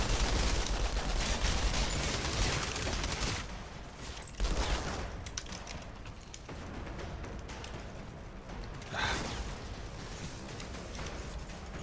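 Sustained gunfire in the shooter video game Outriders, with dense bursts of shots and booming impacts, loud at first and then continuing a little quieter.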